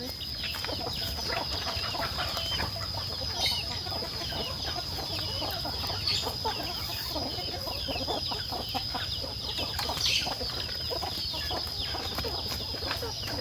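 Backyard chickens of a newly raised spotted breed cluck and call continuously at close range on a rural smallholding in Laos, with a few brief louder squawks standing out against steady outdoor background noise.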